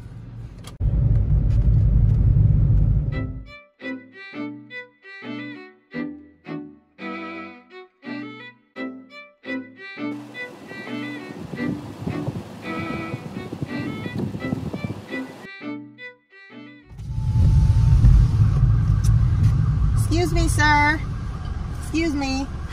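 A car drives around town, its low engine and road rumble loud at the start and again at the end, with voices and a pulsing musical passage filling the middle stretch.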